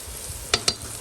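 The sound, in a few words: mutton frying with yogurt and masala in a karahi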